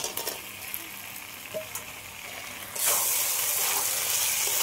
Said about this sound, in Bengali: এবার আমি ভেজে রাখা আলু আর এই টমেটোটা দিয়ে দিচ্ছি